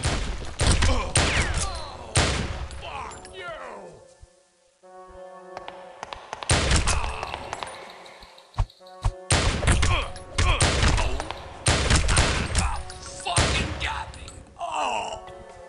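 Gunfire in a video game where enemies are shot, with bursts of shots and thumps plus pained groans and grunts, broken by a brief quieter lull.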